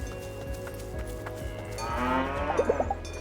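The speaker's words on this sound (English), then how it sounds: "Best to leave these cows alone." Cattle in the video game Dungeons of Hinterberg give a few low, drawn-out moos toward the end, heard over a quiet, steady game soundscape.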